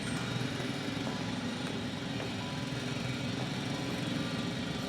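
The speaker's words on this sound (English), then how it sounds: "It's a drill!" A loud drilling machine in The Invincible sci-fi game grinds continuously, a dense mechanical roar with a steady low hum that stays constant and close the whole time, no voices.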